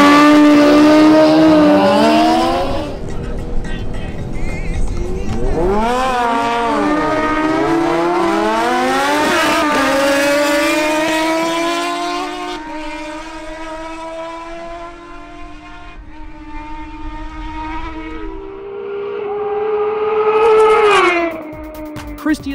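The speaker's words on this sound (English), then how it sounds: "Now, we have the face-off between Harold Rodolo's Kawasaki ZH2 and Christian Alcala's Suzuki" A Kawasaki ZH2 and a Suzuki GSX-S750 drag race side by side, their engines rising in sharp, rapidly climbing revs through repeated gear shifts, loud and close before fading into the distance, then a brief swell of revving near the end.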